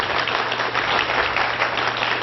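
An audience at a 2010 UFO conference claps steadily, a dense, even wash of applause holding at moderate loudness throughout.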